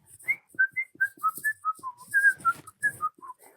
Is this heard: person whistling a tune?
yes